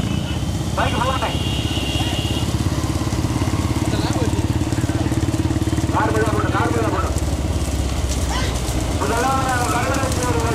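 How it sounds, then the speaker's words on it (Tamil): A motorcycle engine runs steadily and loudly at a bullock cart race in Karuvidaicheri, its drone continuous under an excited commentator's voice and crowd noise. "பைக் போகணே"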